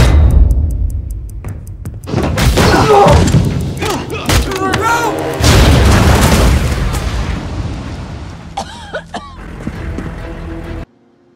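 A loud explosion follows a fire in the hole warning in a Marvel action scene, with a heavy boom and thudding blasts, then crackling debris and rumbling before an abrupt cut to silence near the end.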